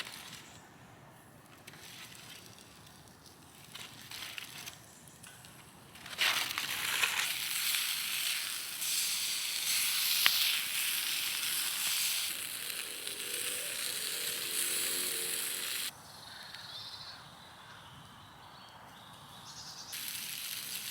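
Beans and sausages frying in a pan over an outdoor campfire at a solo wild camp, a steady crackling sizzle that swells louder midway and then eases, with faint birdsong in the open air around it.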